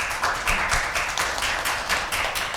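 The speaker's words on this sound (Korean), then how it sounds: "마음을 담아서 큰 박수를 부탁드립니다." Audience clapping at a Korean public hearing on a Green New Deal special act, a moderate, continuous patter of many hands heard at some distance, without talk over it.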